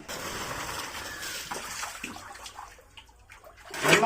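Water from a fish tank being drained and poured out with a bucket, a rushing, splashing gush that fades into trickles and drips, then a brief louder splash at the end, with no talking.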